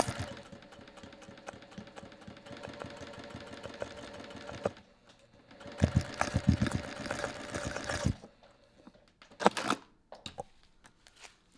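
A sewing machine stitches a rice-filled I Spy bag in two running stretches of fast needle chatter, followed by a few scattered clicks and handling noises.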